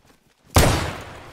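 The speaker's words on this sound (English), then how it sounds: "I just heard another gunshot, unless that was you." Single gunshot in the video game DayZ, a sharp loud crack after near silence, followed by a booming tail that decays over about a second.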